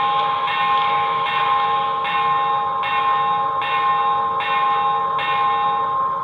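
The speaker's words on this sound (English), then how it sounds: "Let's test the bell." A BLI Paragon 4 PRR S2 turbine model locomotive rings its electronic bell in a steady, evenly spaced clang repeating about every 0.8 seconds, loud and close, with no talking.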